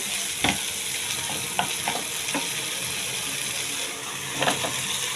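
Spice paste with fully melted tomatoes sizzles steadily in oil for Kashmiri aloo dum as the oil begins to separate, with a few sharp spoon-scrape clicks from stirring and no talking.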